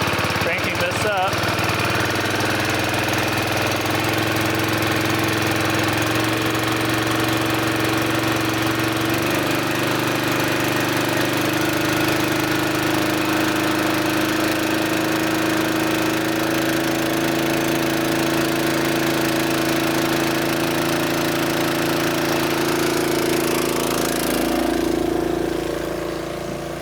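Engine of a wildfire mobile attack unit running, a loud, close mechanical drone that climbs in pitch as it is revved up and holds a rough, vibrating tone, with a person briefly speaking over it.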